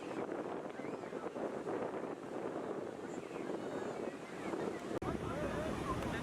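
Evening surf rolling onto Miramar Beach in Goa, a steady wash of breaking waves with wind buffeting the microphone and faint crowd murmur in the background, continuous and fairly loud throughout.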